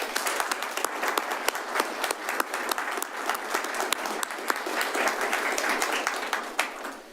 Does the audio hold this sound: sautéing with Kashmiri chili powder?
no